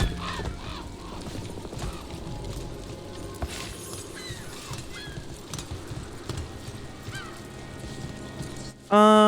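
Ducks quack in Dragon Age: The Veilguard, a scatter of short honking calls over a busy in-game ambient bed, with a louder burst of sound at the very end.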